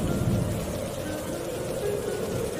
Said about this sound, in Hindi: इतनी ठंडी है, तेज हवाएं भी चल रही है, बिजली भी कड़क रही है